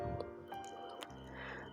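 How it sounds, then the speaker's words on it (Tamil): Tamarind water poured into coconut paste for a Tamil fish curry (meen kulambu), giving a soft, continuous liquid splashing and dribbling with a few small drips, close by and fairly quiet. "நம்ம இந்த புளி தண்ணியை அந்த தேங்காய் பேஸ்ட்டு கூட சேர்த்துக்கலாம்."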